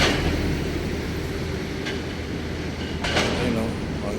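Light rail train running along MacArthur in Manila, a steady loud rumble with faint rail clatter passing close by amid street traffic noise.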